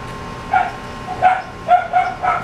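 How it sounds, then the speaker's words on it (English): Several sharp, nearby dog barks and yips come in quick succession, four or five in all, loud over a steady low background hum. "Some of those damn dogs again"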